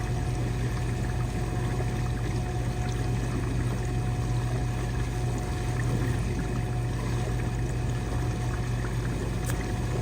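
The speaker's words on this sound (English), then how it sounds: "Now it's running a drain cycle." Steady, loud rush of water through an appliance during its drain cycle, a constant pouring and pumping wash with a hum underneath that never lets up.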